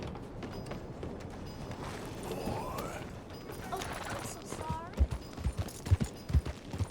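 A horse is mounted in Red Dead Redemption 2, with creaking tack and clip-clopping hooves under game ambience, followed by a few heavier thumps of startled stamping near the end.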